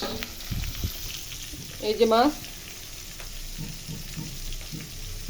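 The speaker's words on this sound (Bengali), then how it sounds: "এই তো আমার মাছ ভাজা শেষ" Pangas fish fries in hot oil in a pan on a home stove, a steady soft sizzle with a few stirring clatters, while a person speaks briefly.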